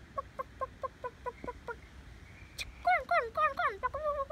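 Farm chickens cluck in a close, evenly spaced run of short calls, followed by louder, drawn-out squawking calls.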